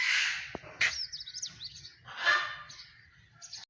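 Kashmiri parrots at a zoo give several sharp, bright squawks and chirps, separated by short gaps, over a faint low murmur in the background.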